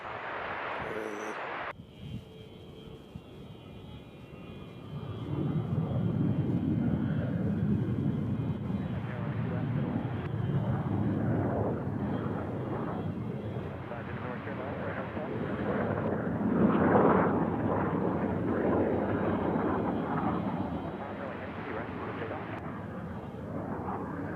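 An aircraft landing at Nashville International Airport, a low broad engine roar that swells and lingers for many seconds after a brief handling noise, with voices faintly under it.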